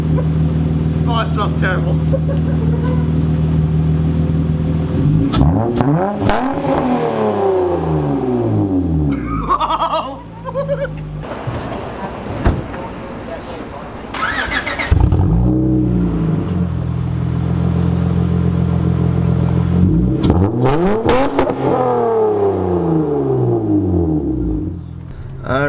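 A Honda Accord fitted with a Megan Racing test pipe exhaust revs hard several times, its raspy note climbing and falling in repeated sweeps between steadier stretches. People talk over the engine.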